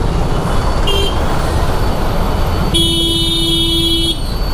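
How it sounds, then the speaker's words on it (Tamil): Busy road traffic in Bangalore rumbles steadily close by while car horns toot, a short beep followed by a longer sustained honk. "எவ்வளோ டிராஃபிக்கு."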